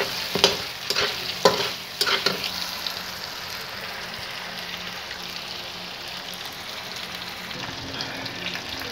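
Garlic and ginger fry and get stirred in a karahi for white chicken karahi, a steady close sizzle broken early on by several sharp scraping strokes, then a continuous hiss with no talking.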